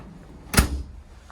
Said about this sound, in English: There's another sliding freezer door here